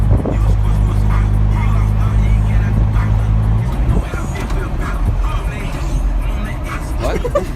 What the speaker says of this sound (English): You know you're not gonna be able to hear squat because of the wind.